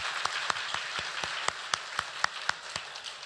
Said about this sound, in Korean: 우리 박수 한번 쳐줘야죠.